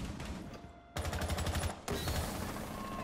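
Multiplayer shooter video game gunfire: a rapid burst of automatic fire lasting about a second, fairly close, followed by a single louder shot and continuing game noise.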